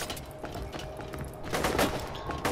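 Enemy gunfire in the Borderlands 2 video game, a rapid string of sharp shots and bursts over a few seconds, growing louder and denser toward the end, with no talk over it.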